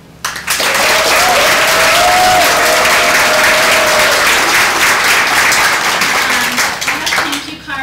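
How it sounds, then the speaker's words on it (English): A graduation ceremony crowd gives volunteers a big round of loud, dense clapping that rises quickly and carries on steadily, with some cheering tones and scattered voices mixed in before it thins. "let's give a big applause to them"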